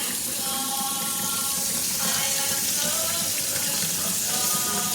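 Tap water runs steadily into a sink as cucumbers are washed by hand, a continuous close splashing hiss for the whole stretch, with faint handling noises under it.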